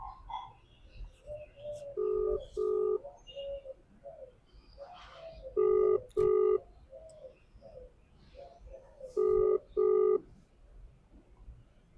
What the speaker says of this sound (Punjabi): ਸ਼ਿੰਦੇ ਨੂੰ ਫੋਨ ਲਾਉਣੀ ਆ